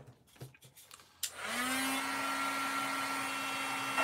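Heat tool used for card making, with a few faint knocks and handling sounds before it switches on into a loud, steady whirring blast of hot air that keeps going close by.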